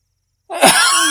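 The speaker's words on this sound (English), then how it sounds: "if I ain't sneezing, I'm hacking" A single sharp human sneeze bursting out abruptly after a moment of silence, loud and close, with a brief airy tail.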